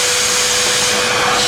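A vacuum cleaner runs inside the fuel tank of a Chevrolet Silverado, a loud, steady, close-up roaring whoosh with a faint whine, continuous throughout with no talking.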